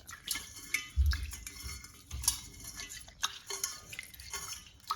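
Rice is washed in cold water in a bowl: quiet, close swishing and grainy stirring with small clicks and drips, uneven in rhythm, with no talk.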